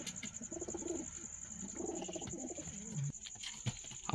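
A Karnapura pigeon coos in soft repeated low phrases near a loft with chicks, over a constant high-pitched background whine.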